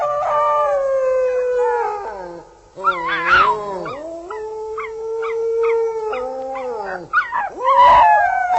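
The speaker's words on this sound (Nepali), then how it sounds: "कुकुर रोएको आवाज सुनियो" Dogs howl long and mournfully as an eerie effect within a Nepali ghost story. Several overlapping wavering howls rise and fall close and loud, broken by yelps and whimpers.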